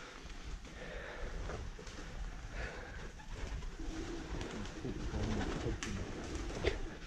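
Pigeons cooing inside an abandoned building, low repeated coos rising and falling over a faint, roomy background hiss, fairly quiet and at some distance.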